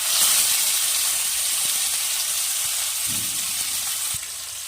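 Rui fish pieces fry in hot oil for a Bengali rui posto, giving a loud, steady sizzle and hiss that holds throughout and eases slightly near the end, with no talking.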